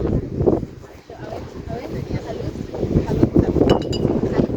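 Strong wind buffets the microphone in loud, rumbling gusts, with faint clinks and outdoor noise mixed in.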